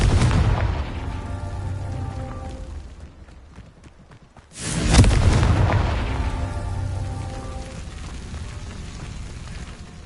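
Loud booming blast from the Confringo fire spell in Hogwarts Legacy, a sudden heavy impact that rumbles and slowly decays, following an earlier explosion fading out.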